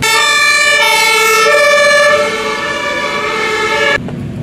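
An ambulance siren blares loud and close, a harmonic-rich electronic tone that holds and shifts pitch before cutting off abruptly, leaving low engine rumble beneath.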